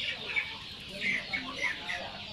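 Caged free-range village chickens on a farm cluck and chatter steadily in a continuous flock murmur, several birds close by with repeated short calls over a busy background.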